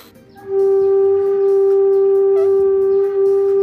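A single bamboo flute note blown clearly and held steadily for about three seconds, pure and loud with a slight wobble near the end.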